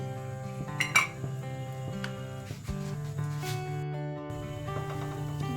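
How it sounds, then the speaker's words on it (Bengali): A metal lid lifted off a pan of vegetable paratha on a gas flame gives a sharp clink near the start, over a steady sizzling hiss with faint scrapes following. "দেখুন ঢাকাটা খুলে দিচ্ছি"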